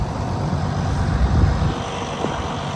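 A tractor engine runs steadily at a loud, constant droning rumble close by, with no other sounds standing out.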